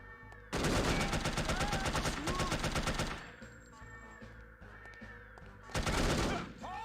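Rapid automatic gunfire in No One Lives Forever, with a dense, loud burst of closely spaced shots lasting a few seconds, a quieter gap with game ambience, then a second loud burst near the end.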